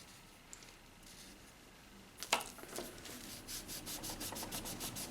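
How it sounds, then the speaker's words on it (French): A soft cloth rubs an embroidery frame clean, starting faint and then turning into a series of close, rhythmic rubbing strokes that grow louder, with no talking. "Utilisez chiffon doux pour pas rayer votre cadre."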